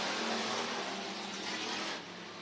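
Hobby Stock or Bomber cars race down the back straightaway at Worthington Speedway, a steady, dense engine roar from the pack that eases slightly near the end.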